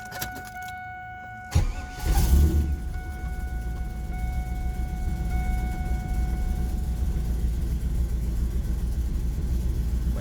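A cold 1996 Pontiac Firebird Formula V8 cranks briefly and catches, then settles into a steady, loud, rumbling idle close by, with a chime tone sounding over the first seconds.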